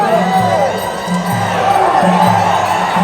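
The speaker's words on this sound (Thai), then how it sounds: "ขอเสียงเชียร์หนักๆหน่อย" Loud crowd at a women's Thai boxing (Muay Thai) bout, voices cheering and shouting steadily throughout, with a rhythmic chant-like pattern under the din.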